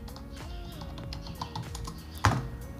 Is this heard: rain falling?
no